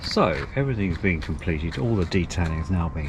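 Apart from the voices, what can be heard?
No everyday noise stands out behind the speech.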